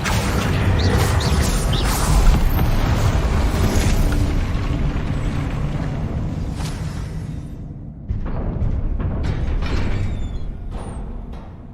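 Spell combat in the video game Hogwarts Legacy, including the Confringo fire spell: dense overlapping booms, whooshes and crashing impacts that stay loud and busy throughout, briefly thinning before resuming.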